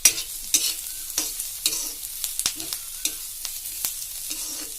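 Onion and carrot stir-fried in a hot pan, with repeated scraping strokes of a spatula at a steady rhythm over a soft, constant sizzle.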